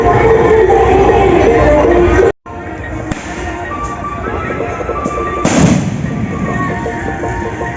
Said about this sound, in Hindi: आप छूटते ई फटक्का स्काई शॉट आकाश में उड़त एकदम झंझना के दिखा दियो